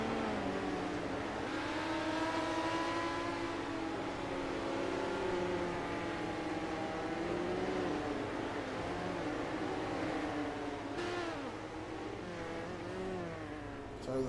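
Midget race cars run on a dirt track at Lanier in the iRacing sim game. Several engines rev and drone together at close range, their pitch rising and falling through the corners, with one sharp change near the end.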